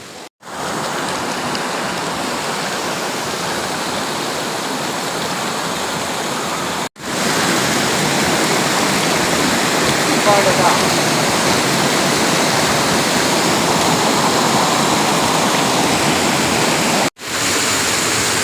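A loud, steady roar of a waterfall fills the whole stretch, a dense rushing wash of water broken only by two brief cuts.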